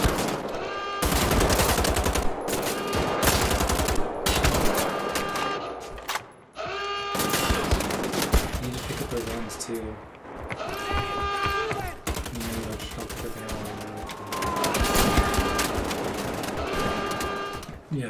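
Gunfire from the shooter game Wolfenstein: The Old Blood rattles in loud, dense rapid bursts, nearly continuous apart from a brief break partway through, with the game's music running underneath.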